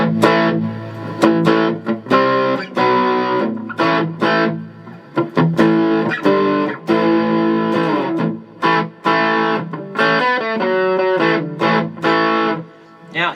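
Electric guitar played through an Electro-Harmonix East River Drive overdrive pedal with reverb added, loud sustained driven chords and riffs with ringing tails, continuous over about thirteen seconds.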